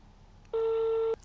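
On an outgoing phone call, a ringback tone sounds as one steady electronic tone of about half a second, clear against a quiet background.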